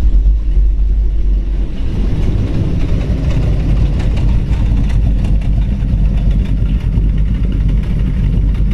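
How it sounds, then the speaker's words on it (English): All-steel 1936 Ford 3 window coupe with a Ford engine running cold, a loud, steady low rumble and idle throb heard close by for several seconds, with no talking. "We'll get out and let you hear it run here."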